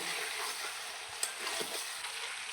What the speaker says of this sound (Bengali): ভেজে রাখা আলু দিয়ে আর একটু কষিয়ে নেব